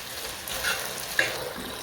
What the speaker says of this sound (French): Et je laisse 3-4 minutes bien griller dans la huile.